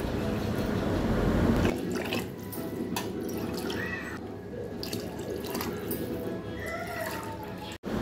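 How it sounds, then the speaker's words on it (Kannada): Water pours into a pot of jowar millet grits for kichidi, about four glasses to one, starting with a loud, full gush that settles into a softer trickle and splashing. "ಒಂದು ಗ್ಲಾಸ್ ಜೋಳದ ನುಚ್ಚಿಗೆ 4 ಗ್ಲಾಸ್ ನೀರು ಹಾಕ್ಕೋಬೇಕಾಗುತ್ತೆ."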